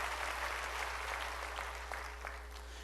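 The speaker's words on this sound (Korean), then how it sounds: "박수로 하나님께 영광 돌려서" Applause rises from a church congregation, a moderately loud spread of clapping with a few sharper individual claps near the end, over a steady low hum.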